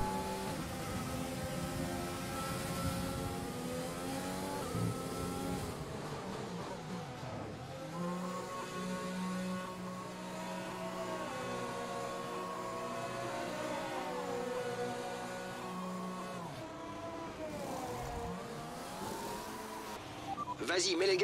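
An F1 race car engine from F1 2020 revs and accelerates in a continuous high-pitched whine, climbing and dipping through gear changes, steady and fairly faint beneath a voice talking throughout.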